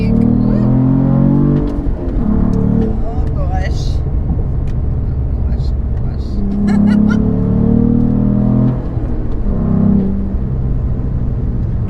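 A Cadillac CT4-V Blackwing accelerating, heard from inside the cabin as a loud, steady engine drone that swells and eases over several seconds, with people talking and exclaiming over it.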